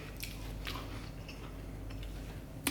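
A few crisp bites into crunchy, hot zucchini pakora fritters, followed by soft chewing, close to the ear with no speech.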